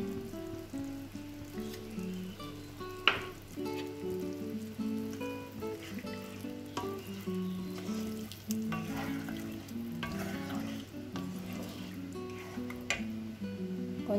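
Chicken curry frying in a pan for curry tosai, with a steady close sizzle and crackle plus occasional stirring scrapes, continuing alone without talk.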